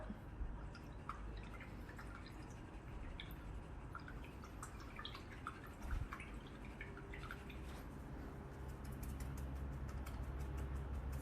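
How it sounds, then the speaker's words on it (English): An acrylic paintbrush washed out in a cup of water: faint, close swishing and dripping with small splashes over a low steady background hum. "wash your brush out."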